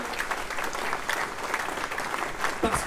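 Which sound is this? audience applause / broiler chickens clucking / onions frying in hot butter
audience applause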